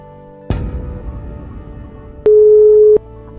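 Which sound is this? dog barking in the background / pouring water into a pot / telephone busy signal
telephone busy signal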